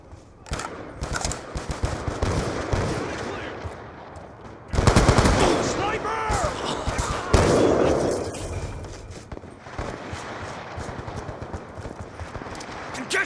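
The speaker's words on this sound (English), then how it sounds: "Death machine spinning up" Death Machine minigun in Call of Duty Black Ops 2 ripping off rapid sustained bursts, loud close gunfire in long strings with short pauses between, game voices faintly beneath.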